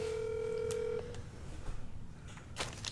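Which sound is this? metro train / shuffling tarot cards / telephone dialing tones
telephone dialing tones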